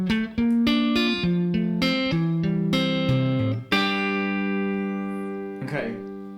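Acoustic-style guitar passage from a song, a quick run of picked notes moving downward, then a sustained ringing chord that slowly decays, played alone and close.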